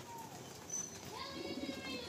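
A small female Madrasi pigeon coos softly close by, a low murmuring coo under steady background noise, with a voice talking nearby.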